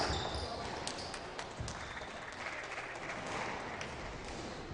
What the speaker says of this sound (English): Crowd showing their appreciation there.